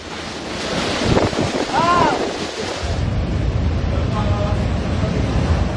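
Strong gusting typhoon wind roars against the microphone with heavy rain hissing underneath, loud and continuous, with a voice faintly audible through the storm.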